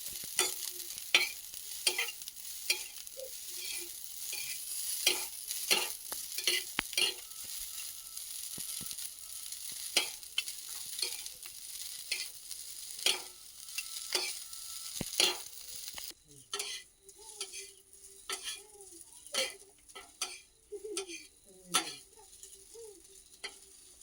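Chow mein noodles stir-fried in a pan at home, with steady sizzling broken by frequent scraping and clinking of a spatula against the pan, the sizzle thinning in the final stretch as the tossing continues.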